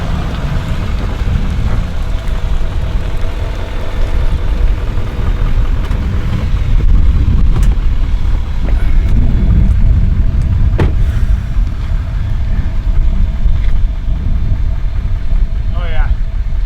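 A Duramax diesel pickup truck engine runs with a steady, close, low rumble, and a constant rushing noise sits on top of it throughout.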